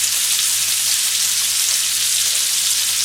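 Minced garlic sizzles in a hot pan alongside pork tenderloin, a steady, even crackle of frying fat that stays moderately loud and constant throughout, with no talking.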